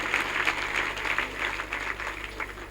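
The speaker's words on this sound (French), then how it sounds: "je voudrais un tonnerre d'applaudissements pour notre maire Magaye Boye" A crowd clapping steadily and fairly loudly for a town mayor at an official ceremony, sustained applause with no voices over it.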